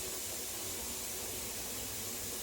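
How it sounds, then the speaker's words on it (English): Steam vents steadily from the small pipe of a pressure canner processing chicken, a constant, even hiss at moderate volume with no voices. "A steady stream of steam is flowing from that little pipe there."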